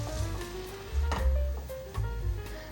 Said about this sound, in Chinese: 把所有调味料炒匀